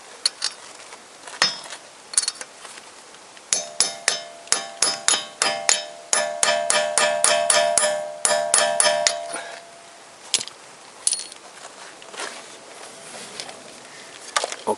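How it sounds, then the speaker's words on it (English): Hammer blows on a steel spike against the central nut of a Toyota Corolla driveshaft (2007–2015), left side: scattered metallic strikes, then a fast run of ringing clanks with a bell-like tone, tapering into a few isolated hits. "and then I start to hammer"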